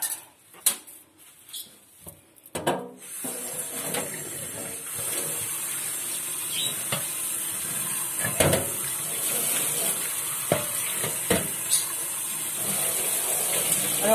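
Tap water runs steadily into a glass carafe at a sink, a continuous hiss with a few clinks and knocks of the glass as it is rinsed.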